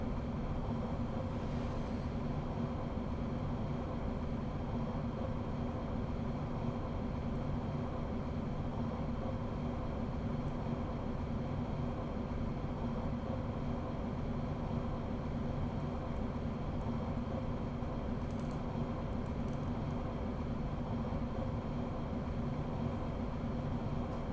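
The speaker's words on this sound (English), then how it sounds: "Freight train." A freight train passes in the Train Sim World 2 game on a German line near Aachen, heard from a BR 442 cab as a steady, heavy rumble with droning hum that holds at constant loudness throughout.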